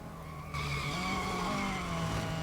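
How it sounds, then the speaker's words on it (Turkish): Tires squealing as a Renault Clio skids through a race in the mobile racing game Real Racing 3, a sustained screech with steady engine drone running continuously and loudly throughout. "fena kaydık burada da"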